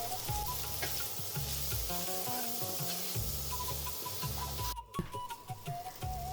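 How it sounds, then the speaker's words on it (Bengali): Red chillies frying with chicken in a pan on an induction cooktop, a steady close sizzle with stirring scrapes throughout and a brief dip near the end. "চারটে লাল লঙ্কা এবার মাংসের সঙ্গে ভালো করে ভেজে নেব।"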